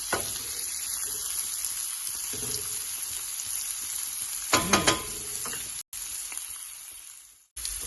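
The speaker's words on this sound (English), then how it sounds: "we're gonna cook that until the onion yellows a little bit" Onion sizzling in a frying pan for SPAM fried rice, a steady close sizzle with a few brief louder crackles and stirring bursts partway through, and two short dropouts near the end.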